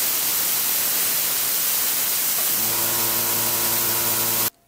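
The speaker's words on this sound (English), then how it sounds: "So it wasn't even 5 psi and compressor kicks back again." A Vevor air compressor restarts: steady hissing air gives way to a loud motor hum with a strong pitched drone as it kicks back on, then cuts off abruptly.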